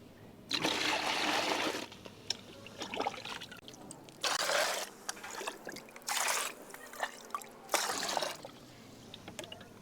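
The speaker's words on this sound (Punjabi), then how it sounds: "ਹੁਣ ਆਪਾਂ ਇਸ ਦੇ ਵਿੱਚ 4 ਲੀਟਰ ਪਾਣੀ ਮਿਲਾਉਣਾ ਹੈ ਜੀ" Water is poured in several bursts into a homemade liquid solution, each pour a splashing gush lasting a second or so, separated by short pauses, close and clear with no talking.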